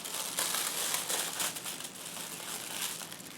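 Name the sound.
plastic bag being cut and crinkled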